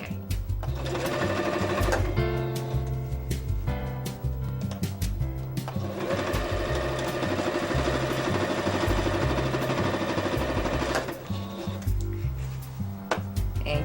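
A sewing machine runs steadily in a rapid mechanical whir of stitching, pausing briefly before resuming, loud and close throughout.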